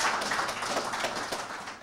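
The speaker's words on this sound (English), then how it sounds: "Give him a round of applause" Audience applause honouring Olympic bronze medallist Lalonde Gordon at a public ceremony, a steady dense wash of clapping lasting throughout, moderately loud and even without pauses.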